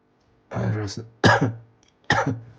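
A person clears their throat and coughs three times in short, separate bursts, close and fairly loud, with brief silences between.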